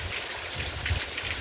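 Heavy rain pours at a farm house in Sujatanagar, Bhadradri Kothagudem, as a dense, even roar of drops drumming on surfaces with no pauses.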